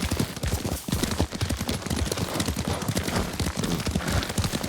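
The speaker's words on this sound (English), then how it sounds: "Lord Sakai taught me to ride a horse" Rapid hoofbeats of a galloping horse in the video game Ghost of Tsushima pound steadily throughout, loud and close, with no voices.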